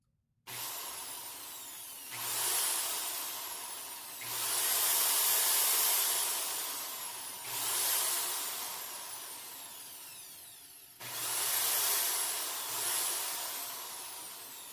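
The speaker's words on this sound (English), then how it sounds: "We're going to turn the drill on and let you listen to it" An electric drill whirs in repeated bursts, spinning up, holding a high whine, then easing off several times, close and loud, during motorcycle speedometer repair.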